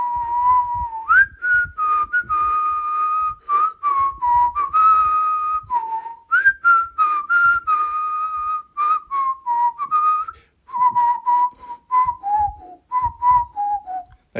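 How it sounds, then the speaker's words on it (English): A person whistles a tune alone, a clear melodic line in short phrases with brief pauses between them, close and fairly loud throughout. "do we test the whistling on the spot?"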